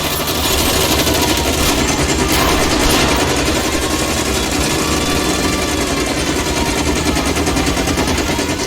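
Sustained automatic gunfire in L.A. Noire aimed at a fleeing car's tyres, a loud, continuous rattling stream of shots over a rumbling engine that carries on for the whole stretch.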